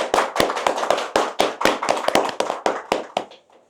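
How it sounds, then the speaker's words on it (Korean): Sparse handclapping at a public panel discussion on restoring a covered urban stream: about fifteen sharp, separate claps in an uneven rhythm, close and fairly loud, thinning out toward the end with no talking. "일단 박수 한번 치도록"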